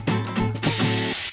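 Bricklayers run a power drill at night, a close, loud grinding whir with a couple of brief stutters as it bites into masonry.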